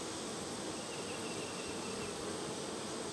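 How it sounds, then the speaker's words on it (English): Honeybees festooning on a fishing-line foundation frame in a hive fill the air with a steady, dense buzz that holds evenly throughout, close and continuous with no voices. "The bees are festooning and they're fixing to build that foundation on that fishing line frame"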